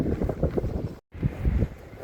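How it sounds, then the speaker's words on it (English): Slight head-on wind rushes over the microphone of someone riding a unicycle on a park road in a canyon, a steady loud buffeting with one brief dropout. "There's a slight head-on wind"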